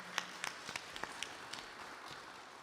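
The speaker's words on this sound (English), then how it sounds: "Please give her a big round of applause," A small congregation at a Sunday service claps for a birthday, sparse and quiet, with a few distinct claps standing out over a soft, fairly distant spread of applause.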